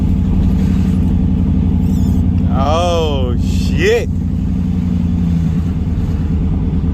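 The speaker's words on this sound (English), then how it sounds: "Feels good to drive this fucking truck again." A truck engine pulls hard at close range while driving, its steady low drone rising through revs with a brief whining sweep, as a man swears once over the noise.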